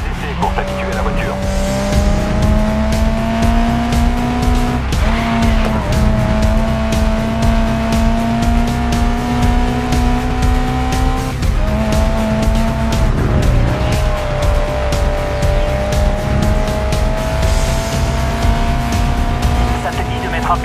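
A race car in Grid Legends drives with a loud, continuous engine drone that rises and falls through gear shifts, with brief tire squeal, dense and close throughout.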